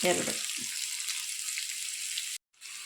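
Chopped onion frying in a pan with finely cut ginger for an egg masala, giving a loud, steady, close sizzle that cuts off sharply near the end.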